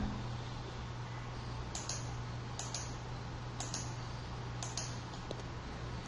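Computer keyboard keystrokes in a quiet room, a few sharp separate clicks over about six seconds against a steady fan-like hum, with no talk.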